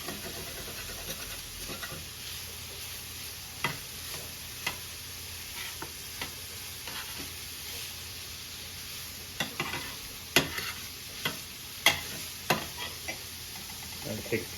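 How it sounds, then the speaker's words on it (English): Sausage browns in a pan for gravy, sizzling and crackling steadily at a moderate level, with sharp scrapes and clicks of stirring scattered through, heavier toward the end. "You want to brown every bit of it."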